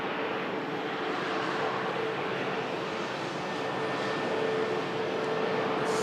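A Jet2 airliner taxis past at an airport, giving a steady, broad engine roar that holds at an even loudness throughout, with a faint whine above it and no voices.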